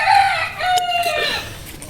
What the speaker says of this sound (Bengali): কত মজা করে খাবার খাইতেছে আমার মুরগি।